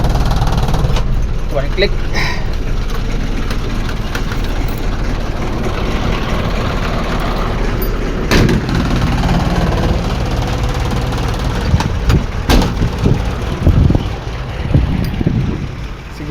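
An engine of a vehicle for an LPG business, left sitting about a month, idles to warm up with a steady low rumble, overlaid by wind buffeting the microphone; someone talks briefly over it.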